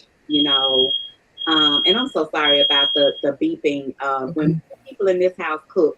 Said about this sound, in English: For some reason, my alarm always goes.